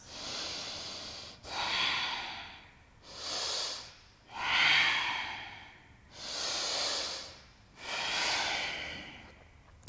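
Steady deep breathing during slow-flow yoga heel lifts, with six long, even inhales and exhales in a regular rhythm, breathy and close, with no talking.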